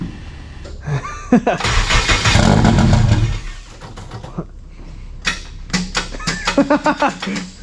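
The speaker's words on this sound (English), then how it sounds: "Make sure the starter don't click." A Honda Si with all-wheel drive cranks and fires up, with a rough engine burst and then uneven rhythmic chugging close by. Voices talk over parts of it.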